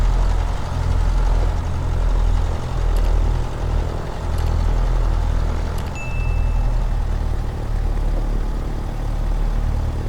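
A Cessna 152 idles in Microsoft Flight Simulator with the Boris Audio Works sound pack, giving a steady low engine rumble with a slight uneven throb and a few faint clicks.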